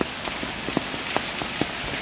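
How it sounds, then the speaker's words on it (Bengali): Heavy rain pours steadily outside the entrance of a cave in Meghalaya, a dense, even wash of noise with scattered louder drips and splashes over two seconds. "তখনও বাইরে মুষলধারে বৃষ্টি পড়ছে"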